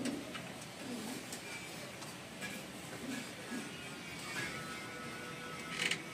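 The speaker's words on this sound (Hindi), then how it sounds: "ये कबूतर है डब वाला कबूतर है, लाल आंख में।" Pigeons coo softly in a breeding setup, low murmuring calls repeating against a steady background hiss, with occasional faint mechanical clicks and no one speaking.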